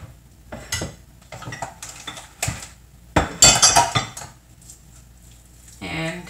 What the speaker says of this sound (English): All right, so mix it really well so that it's all even.